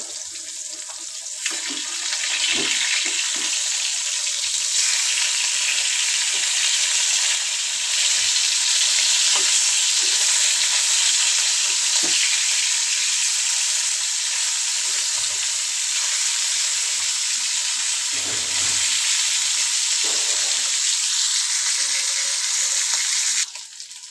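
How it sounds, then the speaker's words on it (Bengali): Steady, loud sizzling of fish frying in a pan, a continuous hiss lasting throughout with occasional faint clinks and stirring. "তো আমি মাছটি ভেজে নিই"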